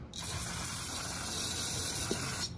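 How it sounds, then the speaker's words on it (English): A steady, hissing spray of brake cleaner on a motorcycle during an oil change runs continuously for about two seconds, close up, then cuts off abruptly. "I like to spray it down with some brake clean."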